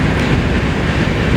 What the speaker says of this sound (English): it was the same locomotive that was on point before